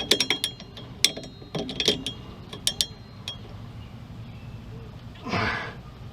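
Ratchet wrench snugging the front shock absorber bolts on a Ford F150, heard as a few bursts of quick metallic clicking strokes, close and moderately loud, followed by a brief rustle.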